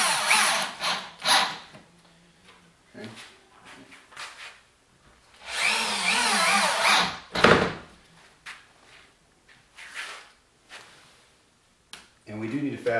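A power drill drives screws into the corners of a plywood sheet being fastened down for cutting circles for a wind turbine, with several short bursts of whirring spread between pauses and talk.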